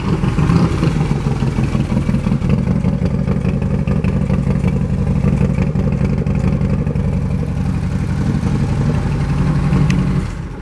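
A 2016 Harley-Davidson Road Glide with a matte black 2-in-1 exhaust idles close by, its steady loping rumble running evenly for several seconds before easing off at the end.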